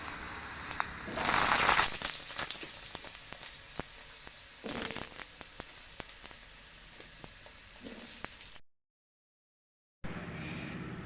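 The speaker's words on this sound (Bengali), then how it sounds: "প্রথমে আমি আলু ভেজে নেব" Potatoes frying in a pan for a vegetarian pumpkin curry, with a sharp burst of hiss as they go into hot oil, then a steady crackling sizzle dotted with pops. The sound briefly cuts out to silence near the end before the sizzle resumes.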